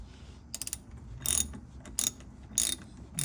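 Ratchet clicks come in short bursts with pauses between them as the brake caliper bolts are removed from a Corvette C5 Z06, close and fairly quiet over a low background hum.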